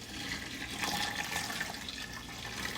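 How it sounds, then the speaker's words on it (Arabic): Boiling water is poured from a kettle onto lentils in a pot, a steady, fairly loud rushing and splashing stream that continues throughout without pause, with no talking. "طبعا أحط عليه ماء مغلي"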